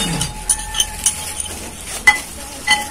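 A spoon stirs shredded chicken with lemon in a pot, giving soft scraping and a few sharp clinks against the side at irregular intervals, close and moderately quiet.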